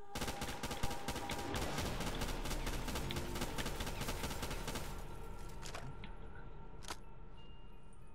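Sustained rapid automatic fire from an MG42 machine gun in Call of Duty Black Ops 3 custom zombies, dense and continuous for most of the stretch, thinning near the end into a few separate loud shots.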